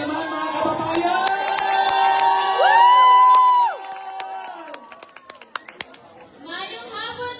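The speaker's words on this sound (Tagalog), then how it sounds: "Palakpak naman mga kababayan!" A rally crowd at an outdoor prayer gathering in Chicago cheers and whoops loudly with rising shouts. The noise fades into scattered claps and chatter, then picks up again toward the end.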